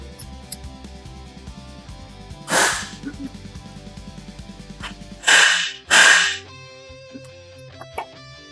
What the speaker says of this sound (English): You can kind of hear the air coming, not burst out.